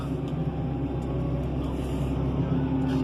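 A steady, loud engine drone from a 2009 Fendt Vario 412 tractor changing driving direction, with a low rumble throughout, holding an even level with only slight shifts in pitch.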